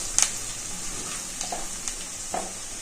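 Chopped onion with turmeric frying in hot oil, a steady soft sizzle throughout with a few faint stirring scrapes, close and alone with no talk.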